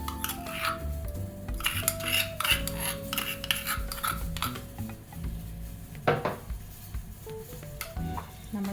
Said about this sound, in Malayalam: ഏതാ കുറച്ച് തൈരിലേക്ക് നമുക്കിതൊന്ന് മിക്സ് ചെയ്ത് കൊടുക്കാം